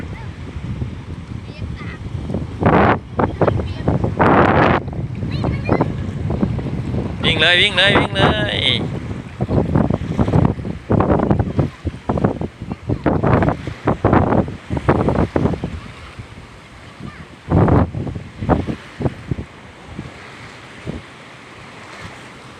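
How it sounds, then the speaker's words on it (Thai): Strong wind buffets the microphone while waves crash and surge against rocks at a seashore on a rainy day, a continuous rough roar with louder gusts, as people talk and call out over it. "ถ้าไม่มีก้อนหินเนี่ยตรงนี้ก็น่าจะคลื่นแรงมากขนาดมีก้อนหินมันยังไม่นิ่งนะยังมีลม"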